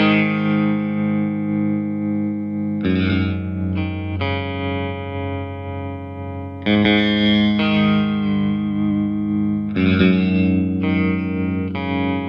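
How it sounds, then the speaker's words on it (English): An electric guitar through a Laney Lionheart Foundry Super 60 amplifier's tremolo effect, bridge pickup split, rings out sustained chords that pulse with a rhythmic wobble, each chord changing every few seconds, loud and alone. "Let's go ahead and try out some of the effects, starting off with the tremolo."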